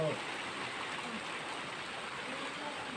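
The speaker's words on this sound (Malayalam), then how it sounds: "ഈ വർഷം ആദ്യമേ ഇങ്ങനൊരു മഴ, എല്ലാം നനച്ചുകൊണ്ടൊരു മഴ" Steady summer rain hissing continuously in a village, a dense broadband patter with no pauses, fairly close and even in loudness throughout.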